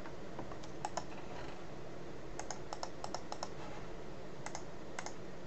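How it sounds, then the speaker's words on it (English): Computer keyboard and mouse clicks sound in irregular bursts of light taps at close range, quiet against a steady background hiss, with no talking. "I can hear all the clicking in the background."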